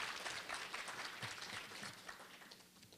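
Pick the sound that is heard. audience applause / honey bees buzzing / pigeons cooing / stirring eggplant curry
audience applause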